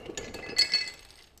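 Brazilwood (pau-brasil) struck sharply, giving a bright, metallic clink that rings out briefly after a couple of light taps, close and clear with no talking.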